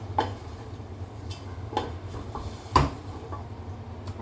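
Pork stirred in a cooking pan: a steady low sizzle under a few sparse, separate scrapes and clinks of a utensil against metal, close and moderately loud.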